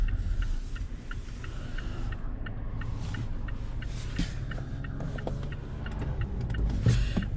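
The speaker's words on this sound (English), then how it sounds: "We'll go ahead first and just do some regular town driving here through Letchworth, of course." A 2022 Mazda CX-5 drives through town with a low, steady cabin rumble of road and engine noise, a regular soft ticking like an indicator running throughout.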